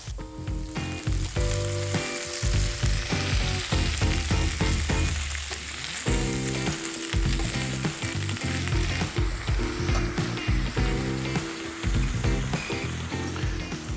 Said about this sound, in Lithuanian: Kepantis česnakas.